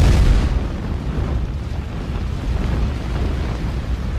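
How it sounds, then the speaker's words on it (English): Building demolition charges detonate: a deep, rumbling blast opens loudly, then gives way to a sustained low roar and rumble that lingers without clear separate bangs. "The explosive pulse travels up the detonating cord."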